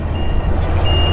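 A road-levelling vehicle reverses on a bridge during road carpeting, its reversing beeper sounding a steady high tone over the loud low rumble of heavy machinery close by.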